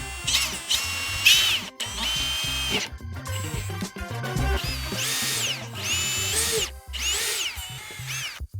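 A power drill whirring in several bursts, pitch rising as it spins up and bites, with short pauses between runs, drilling 3.5mm pilot holes while installing Trex Signature railing.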